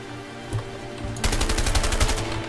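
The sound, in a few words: gunfire from the video game A Way Out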